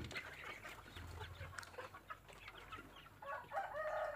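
Chickens cluck and squawk quietly at a short distance, with scattered calls and a louder burst near the end, no talking.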